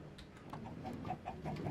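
Chickens in the Minecraft video game cluck softly in a short run of quiet, close, repeated clucks.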